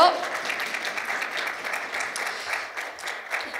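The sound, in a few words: applause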